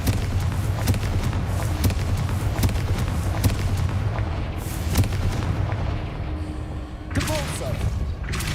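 Repeated Confringo fire-spell blasts in the Hogwarts Legacy video game, a dense run of booming explosions and thuds, loud and close, with a brief lull near the end before more blasts.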